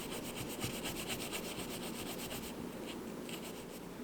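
A ring being sanded with fine-grit sandpaper, moving through progressively finer sheets up to 8000 grit: a steady, close scratchy rubbing with quick repeated back-and-forth strokes and no talking.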